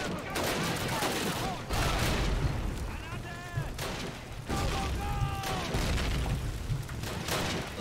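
Battle noise in Call of Duty: United Offensive, with a grenade blast and dense, continuous gunfire, booming impacts and rattling bursts, plus brief whistling tones and faint voices in the background.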